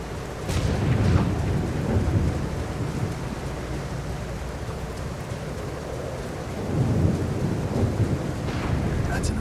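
Rain with rumbling thunder from a storm in the video game The Alters, a steady downpour with two deep swells of thunder, one early and one late, loud and close, with no talking.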